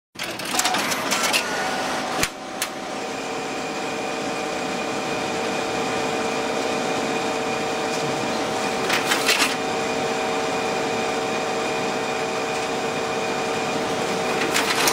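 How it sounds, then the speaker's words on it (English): A printing press driven by an EFI Fiery print server runs released jobs, giving a steady, loud mechanical whir with tonal hums, broken by occasional clicks and rattles of sheets feeding through. "Let us go ahead and release these jobs for printing."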